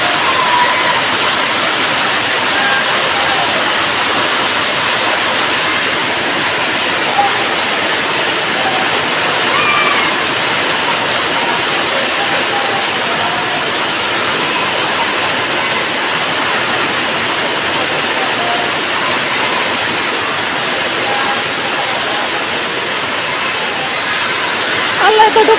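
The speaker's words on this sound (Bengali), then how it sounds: "কেমন বৃষ্টি দেখেন আপনারা।" A downpour of heavy rain roars on without pause, a thick, even rushing wash that stays loud and near for the whole stretch.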